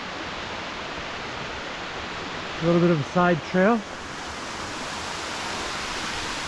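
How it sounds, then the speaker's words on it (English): A waterfall by a hiking trail between Erwin, Tennessee and Damascus, Virginia gives a steady broadband rush of falling water, with someone speaking briefly over it. "Just got to the waterfall."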